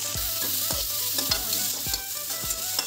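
Kadhi mixture is stirred in a pot with a rhythmic series of scraping strokes, about one every half second, over a constant background sizzle; no talking.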